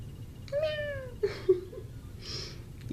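A cat gives one clear drawn-out meow followed by a couple of shorter, quieter mews, close by over a low background hum, with no talk.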